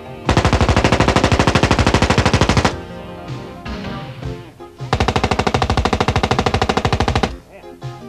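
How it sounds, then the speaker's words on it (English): Sustained automatic machine-gun fire, loud and close, in two long full-auto bursts separated by a short pause filled with lighter crackling and shot echoes. "beautiful women firing full auto"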